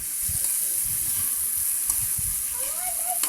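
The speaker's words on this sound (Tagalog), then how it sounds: "gigisa lang natin yung may bawang na may butter" Shrimp sauté with garlic and butter in a pan, a soft, continuous sizzle with occasional low thumps and scrapes of stirring underneath.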